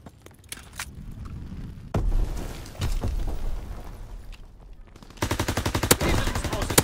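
Gunfire in Call of Duty: WWII during a hardcore team deathmatch on London Docks: scattered loud shots and bursts with a rumbling battle bed, ending in rapid close automatic fire, with a voice speaking in places.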